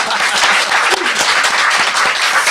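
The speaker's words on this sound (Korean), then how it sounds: "박수 한번 부탁합니다." Loud, dense audience applause fills a Korean lecture-style talk show hall, a steady wash of many hands clapping throughout with no talk over it.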